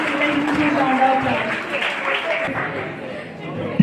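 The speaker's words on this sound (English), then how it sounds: "please welcome Dheeraj with a huge round of" A student audience at a nursing college seminar applauds a speaker: a steady, dense wash of many hands clapping throughout, with crowd murmur beneath.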